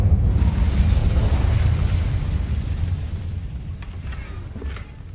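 A fiery Incendio spell cast in the game Hogwarts Legacy, a loud roaring whoosh of flame that swells at once and slowly fades over several seconds, with a few faint clicks near the end.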